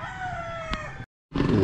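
A rooster crows loudly and close in the morning near homes that keep chickens, one long strained call breaking off, then a brief pause before another crow begins.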